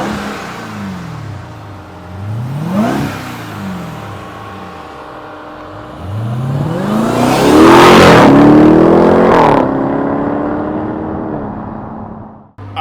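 A 2023 Dodge Durango SRT Hellcat roars past in loud pass-bys, its engine revving and accelerating with rising and falling pitch as it approaches and recedes, the second pass louder and closer, with no talk.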